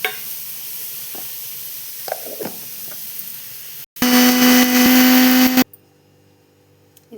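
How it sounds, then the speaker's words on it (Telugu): A mixer grinder whirs loudly for a short burst, grinding roasted ridge gourd chutney mixture, then stops abruptly after quiet kitchen clatter. "మిక్సీ అయితే పట్టుకున్నాము."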